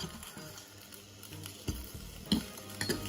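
Food frying in butter in a pan, a steady soft sizzle with a few louder crackles and stirring clatters near the end, no voices.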